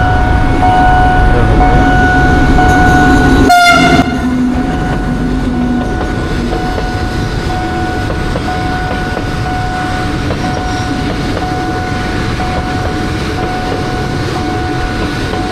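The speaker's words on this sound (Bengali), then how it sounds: "আমরা একটা রেল ক্রসিংয়ে দাঁড়াইছি, এখানে রেল ক্রসিং সব বন্ধ হয়ে গেছে, সব গাড়ি ঘোড়া দাঁড়াইছে পাশে।" A short train rolls through a closed railway crossing in Thailand, a loud, close, continuous rumble and clatter of wheels on rails that lasts throughout.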